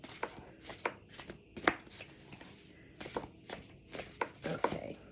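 Large tarot cards being shuffled by hand, a run of quick papery riffles and slaps in uneven bursts, close and soft, with no talking over them.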